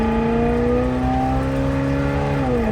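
A vintage RV engine fitted with modern fuel injection holds a loud, steady full-throttle drone with rising harmonics that dips slightly near the end, close and continuous with no talking.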